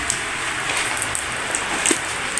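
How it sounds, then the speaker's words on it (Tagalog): Heavy rain pouring down outdoors, a steady dense hiss with scattered drop impacts, continuous and fairly loud throughout with no talk. "Masyadong ulan ngayon"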